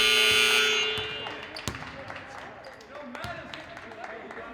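A harsh, loud game buzzer blares for under a second at a high school boys' basketball game, then the gym crowd murmurs with scattered shouts and sneaker squeaks.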